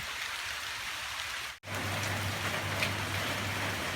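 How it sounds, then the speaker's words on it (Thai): Steady heavy rain falling outdoors, a continuous dense hiss that briefly cuts out, then returns with a low hum beneath it. "ฝนตกห้ำตอนที่ผมขับรถกลับมา"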